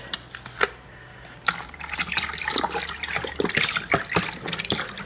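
Pineapple juice pours into a container of punch that already holds banana juice, a close, continuous splashing and trickling stream that builds after a few faint knocks, with no speech.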